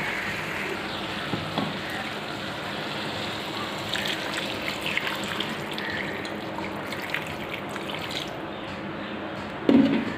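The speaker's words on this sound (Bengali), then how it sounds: "আমি এর মধ্যে জল দিয়ে দেব" Water poured into a simmering vegetable curry in a home kitchen pot, giving a continuous bubbling, sizzling wash of liquid heard close up, ending in a short clunk.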